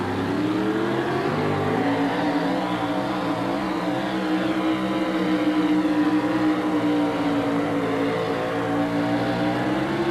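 Prosecutor monster truck engine roaring continuously while pulling a sled at a 1987 USHRA truck pull in Oakland, a loud, steady, heavy drone with shifting harmonics throughout.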